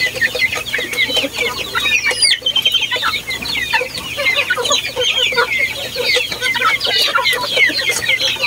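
Backyard chickens kept as poultry cluck and chatter continuously and close by, a dense layered flock with overlapping calls throughout.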